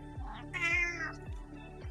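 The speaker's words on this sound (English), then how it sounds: "It's got the more raspy meow." A cat gives a raspy, drawn-out meow alone, with low rhythmic thumps beneath it, close to the mic.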